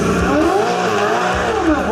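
A Ferrari drifts with loud, sustained tire squeal whose pitch sweeps up and down over a continuous engine roar, heard close and without talk.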